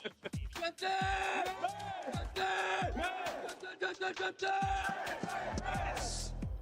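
A large crowd at a Warzone esports event chants and yells in loud rhythmic bursts, with repeated drum-like thumps and rising shouts, energetic and close.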